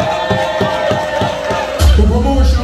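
A crowd at a promotion event applauds and cheers with a rhythmic, pulsing beat under a sustained tone, then grows louder and heavier in the closing second.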